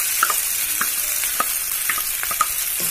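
Macaroni in sauce with egg is stirred in a frying pan, a constant sizzle under sharp, irregular scrapes and taps of the spoon against the pan.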